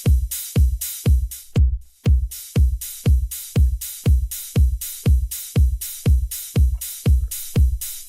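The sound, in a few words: hi-hat drum sample with kick in Cubase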